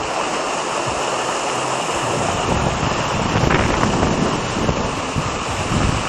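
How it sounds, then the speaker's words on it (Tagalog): Strong wind roars steadily into the microphone, blending with a constant rush of surf and water, loud and unbroken with no voices. "Ang lakas pa ng hangin dito."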